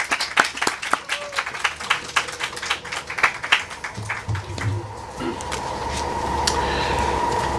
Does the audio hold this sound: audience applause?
yes